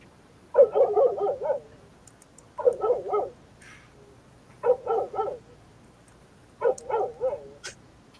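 A German Shepherd's recorded barking plays back from a smart speaker, coming in four separate bursts of several quick, deep barks each, with short quiet gaps between them and no talk.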